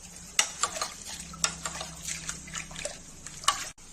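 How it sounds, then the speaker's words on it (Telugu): Toor dal being washed with water inside a pressure cooker: soft sloshing and swishing with small splashes and light clinks against the metal, quiet and close, with no talk. "కుక్కర్లో కందిపప్పు వేసుకొని వాటర్ వేసుకొని బాగా కడుక్కోవాలి."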